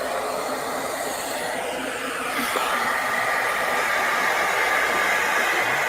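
A hair dryer blows steadily on snow, a loud, continuous whooshing whir that holds an even level throughout with no voices.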